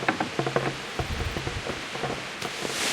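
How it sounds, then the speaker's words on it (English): Pouring rain in the medieval game Kingdom Come: Deliverance makes a steady, dense patter with scattered sharper drops and rustles, moderately loud and with no talking. "Okay, it is pouring rain. Rain looks awesome."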